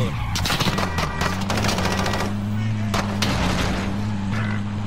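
Automatic gunfire in the video game Warzone, rapid bursts of shots fired in close succession over a steady low hum of a game vehicle, loud and continuous throughout.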